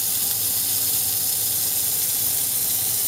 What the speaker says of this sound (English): the squirt bottle. And then I'm just going to rinse out.